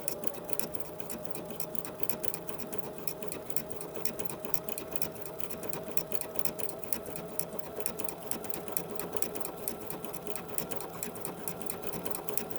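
A sewing machine runs steadily through decorative stitching with a size 14 needle, a fast even mechanical patter that stays constant and fairly quiet for the whole stretch, with no voices.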